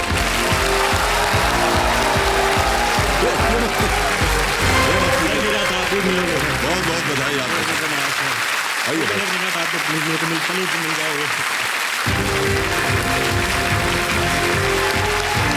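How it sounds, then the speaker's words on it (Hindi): A studio audience on the Hindi quiz show Kaun Banega Crorepati gives a loud, sustained round of applause and clapping for a contestant, with a voice speaking over it and a brief lull before the clapping swells again. "बहुत से आपके संगी साथी वहाँ खड़े होकर तालियां बजा रहे हैं"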